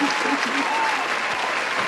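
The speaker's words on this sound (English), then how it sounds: "Round of applause, ladies and gentlemen." Loud, dense clapping from an audience fills the whole stretch, with faint voices mixed in beneath it.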